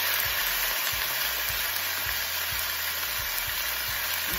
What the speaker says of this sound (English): So what I'm gonna do first is go ahead and add my chicken. You hear that sizzle?